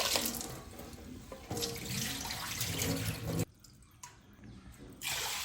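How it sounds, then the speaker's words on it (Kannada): Tap water pours into a kitchen sink while dal is washed, a loud steady splashing rush that briefly quiets to a softer trickle near the end before surging again; no voices. "ಲಾಯ್ಕ್ ಮಲ್ತು ವಾಶ್ ಮಲ್ಪುಗ"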